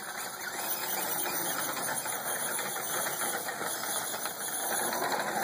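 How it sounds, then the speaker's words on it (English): RC truck with a 25-turn motor bashing at high speed in an arena, giving a steady high-pitched electric motor whine with buzzing and rattling texture, close and continuous throughout. "now for a little high-speed bashing here at the arena"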